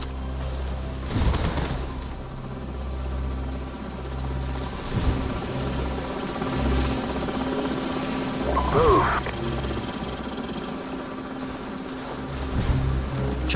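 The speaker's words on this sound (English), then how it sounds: "Enemy helicopters." Steady rotor thrum of helicopters in Call of Duty: Modern Warfare fills the background, a continuous low chopping drone with occasional voices and effects over it.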